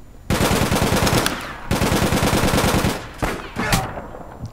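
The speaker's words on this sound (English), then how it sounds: "I'm getting shot at." Automatic weapon fire in the online action game APB, long rapid bursts of loud close shots with short gaps, then a few separate heavier shots near the end, no voices over it.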